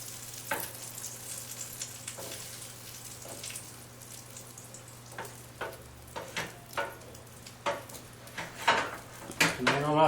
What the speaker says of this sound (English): And when you have eggs, make an omelet, you push in from the sides.